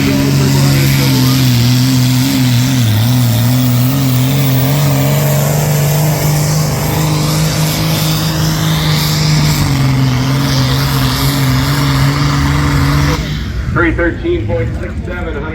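A 360 hot stock class pulling tractor roars at a tractor pull, its engine droning loudly with wavering revs for about thirteen seconds before cutting off abruptly, while an announcer talks over it.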